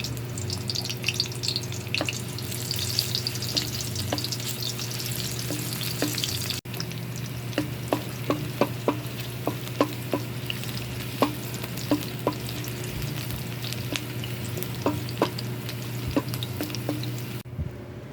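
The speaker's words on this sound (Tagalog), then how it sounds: "So ito mag-i-start na akong mag-stir fry" Pancit bihon and sotanghon noodles stir-frying in a pan: a steady, close sizzle runs throughout, broken by frequent light clicks and scrapes of the utensil tossing the noodles.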